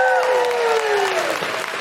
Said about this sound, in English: big round of applause for Mairead